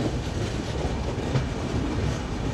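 Konkan Railway train 22150 running on the Mumbai to Goa line and entering a tunnel: a steady, loud rumble of wheels and carriage noise with faint clickety-clack, heard from inside the train with no talk.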